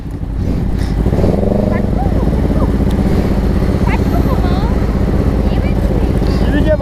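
A motorcycle engine revs repeatedly at a crowded lakeside, its rough, loud note rising and falling close by, with people talking and calling out over it nearly the whole time.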